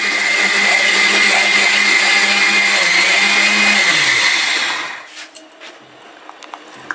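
A blender whirs loudly and steadily while blending guavas for juice, then winds down and stops near the end, leaving a few light clicks and knocks.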